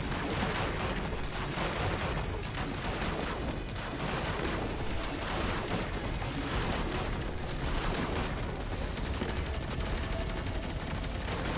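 Rapid, sustained gunfire in the video game Destiny 2, a dense rattle of automatic shots with heavy impacts running continuously without a break.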